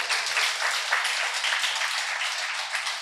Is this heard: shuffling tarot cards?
no